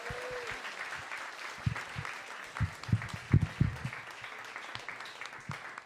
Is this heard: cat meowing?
no